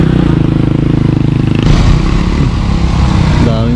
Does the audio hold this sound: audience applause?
no